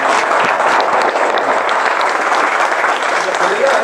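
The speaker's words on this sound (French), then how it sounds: "Applaudissons." A church congregation breaks into loud, sustained applause, with many hands clapping densely and some voices calling out amid the noise.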